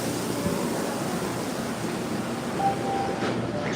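A steady rumbling roar of an MBTA Red Line Ashmont shuttle train running on the rails, heard from inside with a faint whine and brief squeal.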